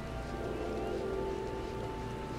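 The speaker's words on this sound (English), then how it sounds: "The rain freaks me out." Steady rainfall in the game Final Fantasy XIV, a dense even hiss with soft pattering that holds unchanged and fairly quiet throughout.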